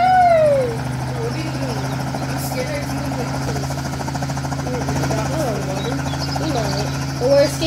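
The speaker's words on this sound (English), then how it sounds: "Helicopter!" A loud video game helicopter's rotor thumps steadily throughout, with excited voices talking and shouting over it.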